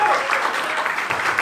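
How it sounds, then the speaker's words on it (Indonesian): Seminar attendees clap for a speaker who has just finished, a brief burst of continuous applause at full volume from a nearby crowd. "tepuk tangan yang meriah sekali untuk Pak Oce tadi, Bapak Ibu"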